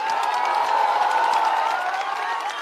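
A crowd claps and cheers at a Prashant Kishor political rally in a steady, dense wash of applause that holds for the whole stretch without letting up.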